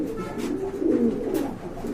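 Pigeons in a loft coo softly and steadily, a low rolling call repeating close by with no talk.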